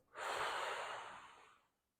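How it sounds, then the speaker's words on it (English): A single slow breath during a spine rehabilitation breathing exercise, drawn in through the nose and let out through the mouth, a soft breathy airflow swelling and fading over about a second and a half, close and alone. "we want to make sure that you are breathing in through your nose and breathing out through your mouth"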